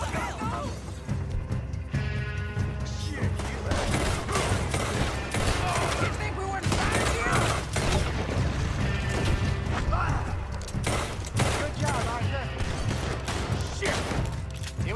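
Dense, loud gunfire from Red Dead Redemption 2's "New American Art" mission runs almost without a break: overlapping shots, crashes and impacts fill the whole stretch, with a voice faintly underneath.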